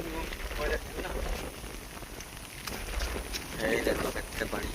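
Heavy rain pouring down steadily over a village, a dense continuous hiss with low rumble, with people talking faintly underneath.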